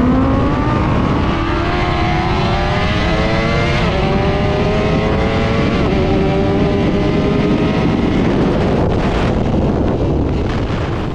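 A Honda CBR 1000 RR-R Fireblade SP superbike, a 1000 cc naturally aspirated engine, roars through rising gear changes at high revs on a race track, loud and close, with heavy wind buffeting the microphone the whole time.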